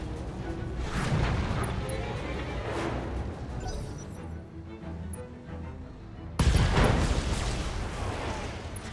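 Turrets fire during a BattleTech video game battle, heavy booms and crashing impacts rolling one after another, loud and dense, with a sudden sharp blast near the end.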